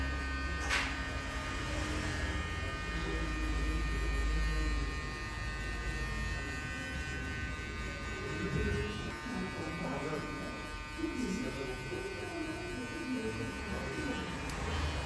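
Electric hair clippers buzz steadily and continuously while cutting a man's hair in a barbershop, with someone talking over the hum.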